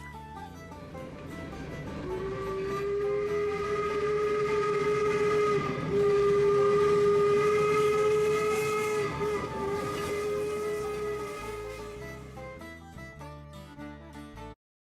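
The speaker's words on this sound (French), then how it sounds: "Finissent par passer sur la tête des pêcheurs la locomotive et son nuage de fumée" Steam locomotive passing with a long, loud whistle that swells and fades over several seconds, accompanied by hissing steam and rumbling rail noise as the train goes by.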